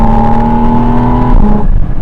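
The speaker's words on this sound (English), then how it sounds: "That engine is amazing, and it sounds like a bunch of chainsaws are having a melody." A Porsche 718 Spyder RS engine holds a loud, high, buzzing rev up close, then drops away sharply as the throttle is released near the end.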